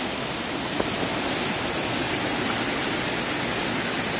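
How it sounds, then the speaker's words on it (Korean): Tat Sae waterfall near Luang Prabang, Laos, a steady, dense roar of falling water that stays even and unbroken throughout. "따스 폭포"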